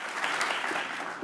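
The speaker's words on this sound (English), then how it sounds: "that deserves some applause" Brief burst of audience clapping, a steady moderate patter of many hands filling the short moment without a break.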